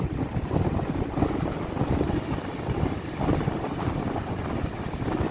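Strong ocean waves on the Pacific at Casapsapan Beach, Casiguran, Aurora, at high tide, a steady, loud broadband roar of surf mixed with wind buffeting the microphone, with no voices.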